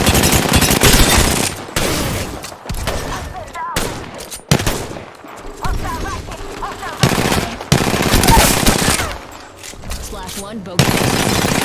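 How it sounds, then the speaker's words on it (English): Dense gunfire in a shooter video game, with repeated bursts of automatic fire and sharp single shots coming in loud clusters separated by short gaps, while a voice speaks briefly over the action. "I'm getting shot at. I'm taking fire."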